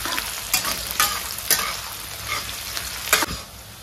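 Onions and green chilli fry in a pan with a steady close sizzle, broken by several loud scraping stirs throughout; no talking.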